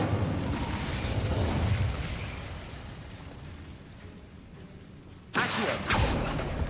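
A fire spell cast in Hogwarts Legacy, heard as a sudden loud whooshing burst late in the clip after a stretch of low rumbling game ambience.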